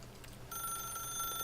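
An old-style phone bell begins ringing in The Stanley Parable, a steady electronic trill starting about a third of the way in over a low background hum, close and moderately loud.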